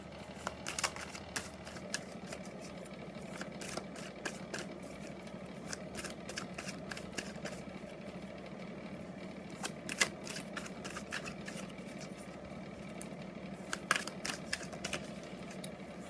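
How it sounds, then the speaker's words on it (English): Tarot cards being shuffled by hand, a soft, continuous run of quick riffling clicks and taps, close and quiet, with no talking. "A few more shuffles."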